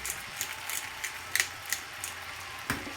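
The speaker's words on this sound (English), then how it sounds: "Then finally, just grind in some black pepper" A pepper grinder cracks black pepper with a series of quick, close ratcheting clicks and grinding crunches, fairly faint and irregularly spaced.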